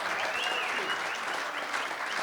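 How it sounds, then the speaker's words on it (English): Audience applause at a sports interview event featuring retired football players, a steady, dense wash of clapping hands filling the whole stretch without pause. "Get this man a round of applause."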